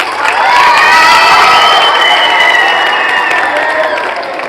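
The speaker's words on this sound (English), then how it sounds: "So please clap for Zahid sir also." Students at a school's last assembly cheering and clapping for a teacher, a loud, lively roar of young voices with whoops over steady applause that swells early and then slowly fades.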